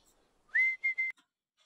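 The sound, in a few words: whistling sound effect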